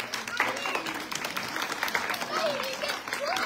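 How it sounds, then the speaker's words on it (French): An audience at a Comorian artisan fair applauds as new members are welcomed, a steady crowd clapping that fills the moment while voices murmur underneath. "Vous pouvez les applaudir."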